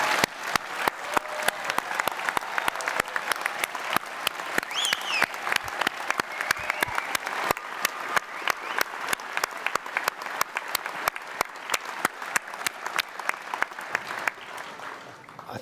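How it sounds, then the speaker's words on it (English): Sustained applause from a graduation ceremony audience honoring this year's graduates, steady dense clapping filling the hall and easing off toward the end. "a round of applause for all the graduates this year"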